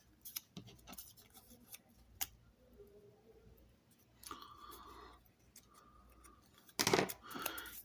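Scissors cut paper pieces into small fishtail flag shapes for a card project, with a scatter of faint, close snips and rustles and a louder burst of paper handling near the end.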